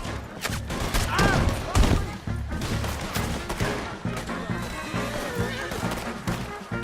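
Rapid gunfire bursts in a Red Dead Redemption 2 mounted escape, volleys of shots crackling over galloping horses, neighs and shouting voices, loud and dense throughout.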